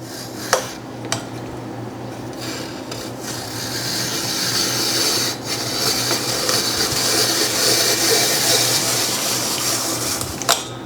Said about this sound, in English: I finished peeling and coring